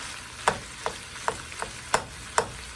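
Sharp scraping clacks of a utensil stirring ground beef and Italian sausage in a pan, about six irregular strokes over a steady background hiss of frying.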